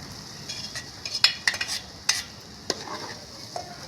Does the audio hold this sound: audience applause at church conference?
no